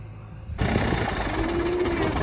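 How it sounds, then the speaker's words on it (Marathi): Earthmoving machinery digs out a silted village pond, a steady, rough engine roar that cuts in abruptly after a quiet start and stays loud and continuous to the end. "खोदाखोदी चालू आहे इथं."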